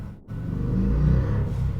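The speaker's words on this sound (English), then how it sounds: "That is a very loud car." A loud car engine revs up close, a deep rumbling roar that swells and holds steady for a moment.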